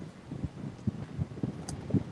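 Outdoors by a horse farm paddock, wind gusts buffet the microphone, producing a low, rumbling, uneven roar with a few soft thumps and no voices.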